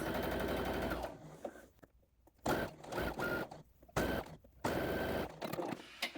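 A sewing machine stitches a basting seam in bursts of fast, close mechanical whirring. Short pauses separate several runs of stitching.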